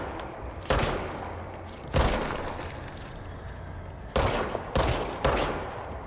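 Gunfire from the video game Control, several sharp bursts of shots spaced a second or so apart over a continuous low rumble, loud and close, no talking.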